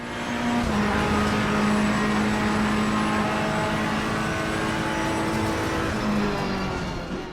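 A race car engine drones steadily at Monza in Assetto Corsa Competizione, running on dry tires through wet conditions past the pits. The tone holds loud and continuous throughout, with a sustained low hum alone.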